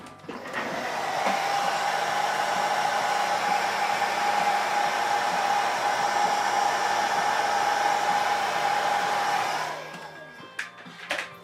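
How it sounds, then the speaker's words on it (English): A handheld blow dryer runs steadily for about nine seconds, drying putty, a constant loud whir that cuts off near the end, leaving a few small clicks. "Let's hit this with the blow dryer. Dry this putty up a bit."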